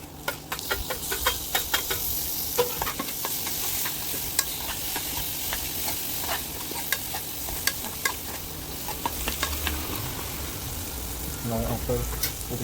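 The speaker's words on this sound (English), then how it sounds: "Now we will add tomatoes to this masala." Tomatoes go into a frying brinjal masala, bringing a steady sizzle with repeated sharp scraping clicks of a spoon stirring the pan, close and busy throughout.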